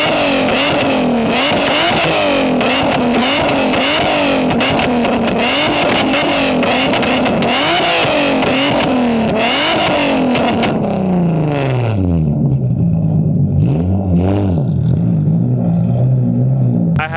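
A straight-piped Nissan 350Z/370Z exhaust roars at close range, rising and falling through repeated loud revs before dropping back toward a rough, burbling idle.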